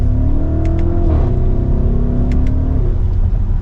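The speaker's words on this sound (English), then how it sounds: "Let's take a listen to that exhaust." A 2024 Audi SQ8 with an upgraded sport exhaust in dynamic mode gives a loud, close, deep engine drone that rises and falls as the revs shift, with a few faint high chirps above it.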